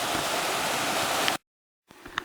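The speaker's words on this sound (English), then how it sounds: "It's a pretty little cascading brook." A small cascading brook on the Appalachian Trail in Maine's 100 Mile Wilderness, heading up White Cap, rushes as steady broadband water noise, cuts out briefly, then resumes more faintly.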